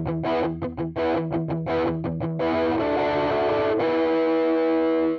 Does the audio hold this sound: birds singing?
no